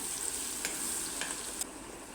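Ginger garlic paste with garam masala, turmeric and chilli powder frying in a pan, a steady close sizzle with a few sharp scraping clicks as it is stirred; no talking.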